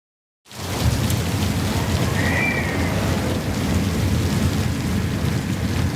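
Steady, loud rain and rolling thunder of a thunderstorm in a King Lear storm scene, starting abruptly and continuing as a dense, unbroken roar with low rumbles throughout, no voices.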